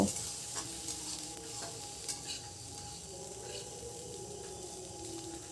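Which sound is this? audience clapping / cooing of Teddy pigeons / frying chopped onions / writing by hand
frying chopped onions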